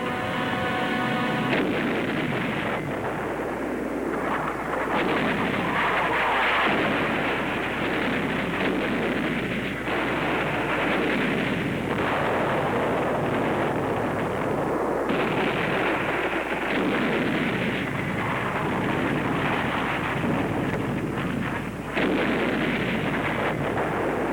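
Naval bombardment of an island in a vintage World War II Marine landing documentary, a dense continuous roar of artillery fire with rumbling booms blending into one another, loud and sustained with no voices.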